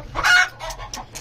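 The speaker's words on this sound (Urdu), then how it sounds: "اس کی چیخ جو ہے نا بہت بری ہے" A caught hen lets out a loud, harsh squawk followed by several shorter distressed squawks, close and alone.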